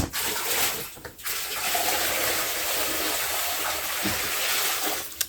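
Water is poured steadily out of a full container, a continuous splashing rush that holds at an even level for several seconds with only brief dips.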